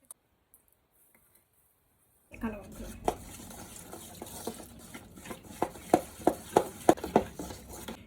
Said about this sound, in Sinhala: ටින් කිරි සහ මුදවපු කිරි බඳුනකට දාමා හොඳින් තට්ටු කරන්න